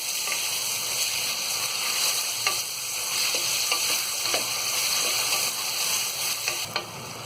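Sliced onions fry lightly in a pan for mutton do pyaza, a close, steady sizzle broken by soft scrapes and taps of stirring.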